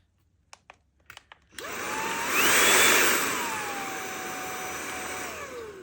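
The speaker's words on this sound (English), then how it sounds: "It sounds very quiet, very quiet compared to the other Dyson V8s that we usually see." A Dyson V8 Cyclone cordless vacuum cleaner switches on after a few clicks, its motor whirring up to a steady high-pitched whine and then easing down to a slightly lower, even hum, fairly loud and close with no talking.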